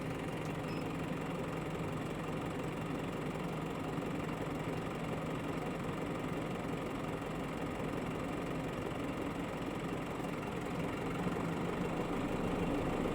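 Steady engine drone of an SML maxicab van as the air conditioning switches on, a constant low rumble with idle-like texture filling the cabin, no talk over it.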